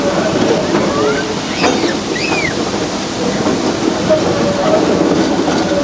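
A train on the Ooty mountain railway rolls along with a steady, loud rumble and rattle of wagons, with faint wheel squeals on top, heard from on board.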